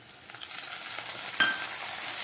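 Grated onion dropped into hot oil in a frying pan while a fish curry is being cooked, giving a steady close sizzle with a brief sharp clink of a utensil midway.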